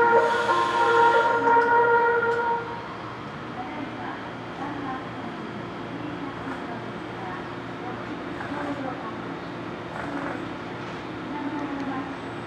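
A 115 series two-car local train pulls out of Matsumoto Station early in the morning, a steady rumble with a brief horn at the start, the motor noise settling into a low continuous drone.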